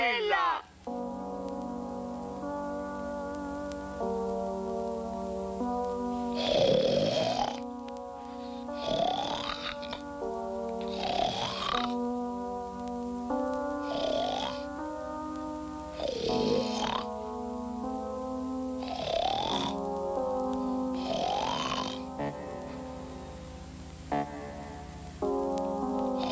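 Snoring in the animated film Mafalda (1982) comes as a slow series of long, rasping breaths repeated about seven times, each swelling and fading in a steady rhythm, close and fairly quiet, with no talk over it.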